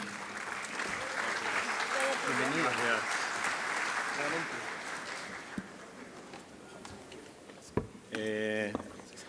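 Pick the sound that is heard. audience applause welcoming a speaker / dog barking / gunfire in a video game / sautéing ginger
audience applause welcoming a speaker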